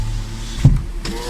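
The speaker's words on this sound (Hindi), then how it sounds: "गाड़ी का ग्लास ऊपर कर लेते हैं" 2018 Toyota Corolla XLi power window raising its glass, a brief electric motor whir with a soft thump, heard alone over a steady hum in the car.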